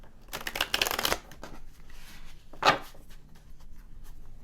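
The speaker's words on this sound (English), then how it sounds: "we're going to be using this deck, and this one is called Shadowscape Tarot cards" Shadowscape tarot cards being shuffled close up, a longer riffling burst followed by a second short sharp shuffle, then quiet handling.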